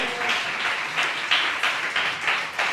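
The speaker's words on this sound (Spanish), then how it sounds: "¿Habrá alguien que pueda aplaudir el nombre del Señor?" A church congregation applauds together in a steady, moderately loud wash of clapping, with rhythmic swells roughly every third of a second and faint voices mixed beneath it.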